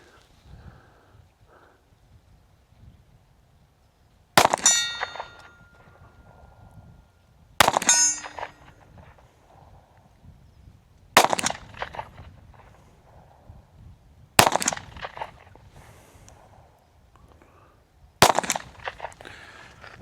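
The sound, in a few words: SIG P365 SAS pistol shots at 50 yards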